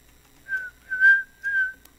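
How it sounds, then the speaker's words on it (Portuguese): A person whistles three short tonal phrases in a steady pitch, close and clear, with brief pauses between them and no talking. "Por ter assobiado um pouquinho aqui."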